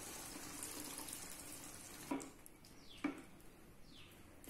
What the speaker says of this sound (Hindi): अब इसमें 1 कप पानी को ऐड कर लेंगे।